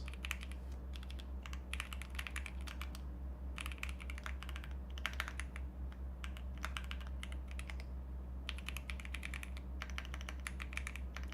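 Rapid typing on a computer keyboard with a sticky R key, heard as close, dense bursts of clicking keystrokes separated by short pauses over a steady low hum.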